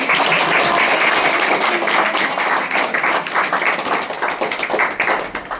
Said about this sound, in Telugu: ఒకసారి అందరు క్లాప్స్ కొట్టండి